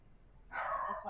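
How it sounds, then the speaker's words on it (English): A dog barks once in the background, a short burst of moderate loudness that lingers for about half a second after a quiet stretch, with no talking. "Sorry for my dog in the background"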